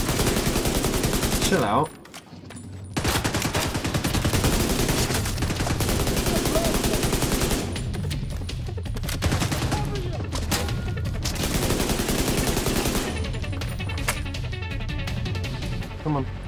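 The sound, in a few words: enemy gunfire in the video game The Division 2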